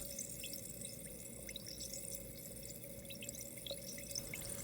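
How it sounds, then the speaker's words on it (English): Vinegar fizzing as it reacts with eggshells, a steady faint crackle of tiny pops and drips carrying on throughout, with no talk over it. "Just listen at the chemical reaction of the vinegar extracting the calcium straight from the"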